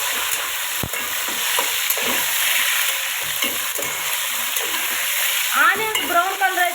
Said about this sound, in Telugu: టమాటా ఫ్రై చేసుకున్నామండి